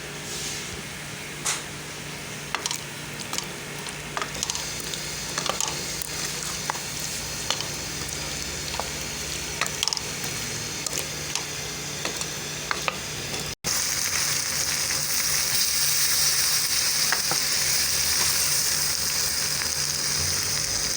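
Ghee sizzles in a karahi while wings cook, a continuous close frying hiss with scattered pops and clinks that swells sharply louder partway through, with no talking.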